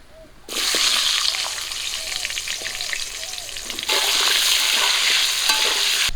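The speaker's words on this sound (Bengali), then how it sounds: "মাছ ভাজা তেলে আমি ধুয়ে রাখা আলুগুলো ভাজা করে নেব" Washed potatoes hit hot oil left from frying big grass carp and sizzle loudly and steadily, the crackle swelling brighter about two-thirds through, with faint stirring clatter and no talk.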